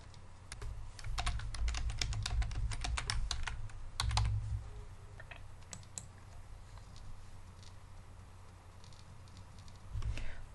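A password is typed on a computer keyboard, a quick run of close, crisp key clicks in irregular bursts, then sparser taps trailing off into a quiet room hum.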